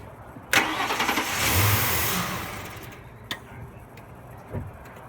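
A 1998 Ford Expedition's 4.6L V8 cranks with a sharp start, catches and runs rough for about two seconds, then falters and stalls, leaving a few faint clicks afterward.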